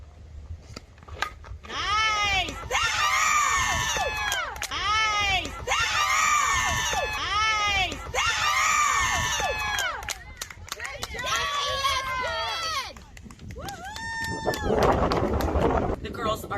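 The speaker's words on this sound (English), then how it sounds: "The girls are cheering for each other" Girls at a ball game cheer and shriek for each other in repeated high-pitched bursts over a noisy crowd, loud and close, with rhythmic rising-and-falling shouts continuing throughout.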